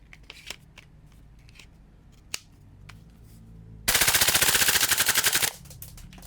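A CYMA airsoft rifle cycles briefly in full auto, a loud rapid mechanical rattle lasting under two seconds, preceded by scattered clicks and handling noises at close range.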